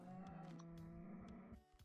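Minecraft cows mooing in a blocky game world, a drawn-out low bovine moo holding steady for over a second, then breaking off into short soft footstep thuds.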